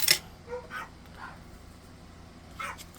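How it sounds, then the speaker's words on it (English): Small dogs bark at the front door when a delivery arrives. A few short, sharp yips and barks come at irregular moments, moderately near over a quiet room, with no talk. "everybody's going to go bark at the front door"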